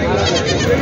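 A goat bleats loudly and close at the Osmanabad livestock market, one sustained wavering call filling the brief moment.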